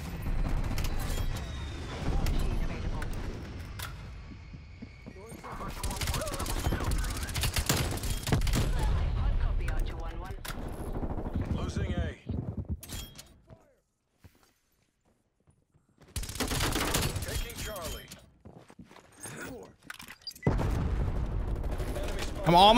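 PPSh-41 submachine gun firing in Call of Duty: Cold War, with rapid, rattling bursts repeated at close range and brief quiet pauses between volleys.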